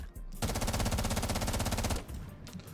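Sustained automatic gunfire from a first-person shooter video game, a rapid rhythmic burst lasting about a second and a half, loud and close, then cutting off into quieter game ambience.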